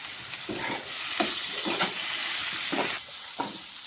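Potatoes frying with coriander, cumin and turmeric powders sizzle steadily in a pan while a spatula stirs them in repeated scraping strokes, close and unaccompanied by speech.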